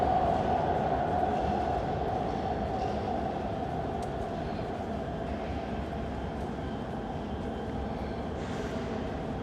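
A Škoda Varsovia metro train entering the tunnel at Wierzbno station, a steady rolling rumble with a sustained mid-range whine, louder at first then holding constant as it moves through.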